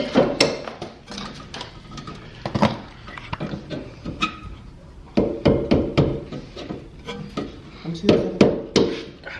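A mallet knocks repeatedly in a garage while Evo X Brembo brakes go onto a Mitsubishi Lancer, with clusters of sharp, fairly loud thuds in uneven rhythm alongside voices talking.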